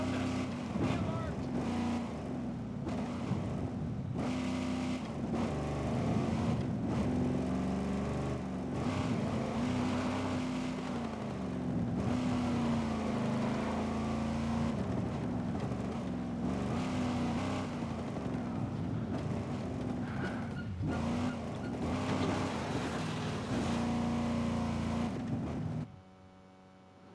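Car driven in the Ghost Recon Breakpoint video game, a continuous engine drone with shifting pitch that holds for most of the stretch and cuts off near the end, with voices talking over it.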